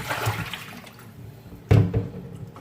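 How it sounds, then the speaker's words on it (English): Water is tossed out of a basin in one sudden splash that quickly trails off, following a few quieter sloshes at close range. "And I'm gonna throw out this water."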